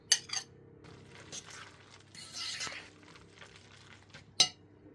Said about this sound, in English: Add them over the cheese and mix.